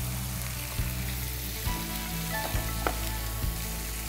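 Beef sizzles steadily in a pan with garlic paste, cumin, chili powder and garam masala, a continuous close frying hiss broken by a few soft stirring knocks.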